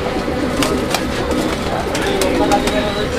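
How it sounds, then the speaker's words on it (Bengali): Pigeons coo at a busy pigeon market where light-coloured birds are sold, a soft continuous warble mixed with scattered bird calls, crowd murmur and a voice talking over them. "লাইট কালার ফ্রেশ কবুতর, রানিং কবুতর।"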